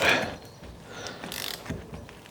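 A 4-pin tool unscrews a Loctited left-hand-thread bolt on a 2015 Cannondale Trigger mountain bike. Close metallic clicks and a grinding squeak come in a short burst with no speech.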